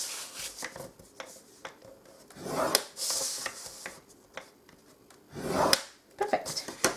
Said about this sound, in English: I want to score at 2 inches on all sides.